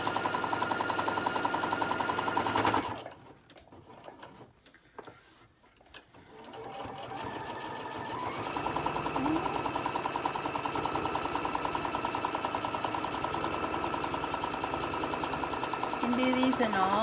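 A sewing machine runs steadily close by while top stitching along the edge of a candy corn print mug rug, with a short pause after about three seconds before the motor hum resumes.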